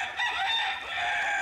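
A fighting rooster on Lanzarote in the Canary Islands crows once, loud and close, with a sustained harsh call that fills the whole moment without any voices.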